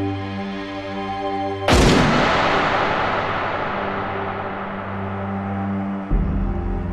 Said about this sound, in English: A double-barreled shotgun fired at Wilhelm I seriously injured him in the head and shoulder